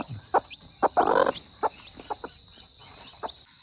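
Chickens cluck in short, scattered bursts nearby, with one louder squawk early on and quieter calls trailing off against a faint steady hum.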